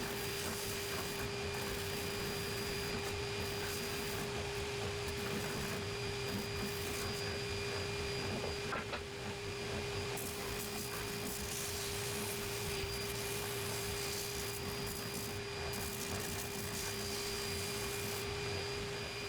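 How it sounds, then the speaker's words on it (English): A spindle sander smooths the inside curves of bent 2x4 lumber, its motor holding a steady whine under a continuous rough grinding hiss for almost twenty seconds. "On the spindle sander, do the same for the inside curves."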